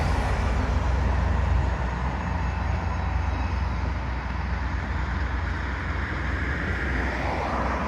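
A bus rolls across a bridge in Shaldon, producing a steady, loud low rumble of engine and tyres that fills the scene and slowly fades as it moves on, with no talking.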